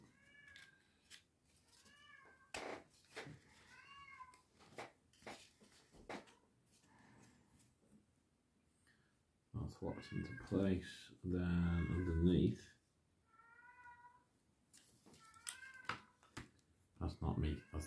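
A house cat meows repeatedly nearby, with a louder, drawn-out yowling stretch in the middle, heard between and over someone talking while assembling a Rokr Tea Cup Ride model kit.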